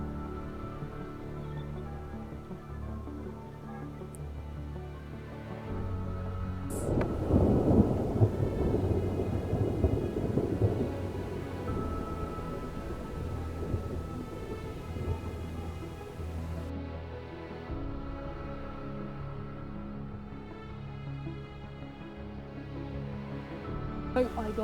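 Thunderstorm with rolling thunder, a sharp crack followed by a long deep rumble that slowly fades, with rain in the background and faint voices.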